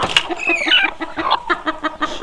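Two-year-old laying hens in a poultry shed cluck in a steady run of short, repeated calls, close and clear with no talking.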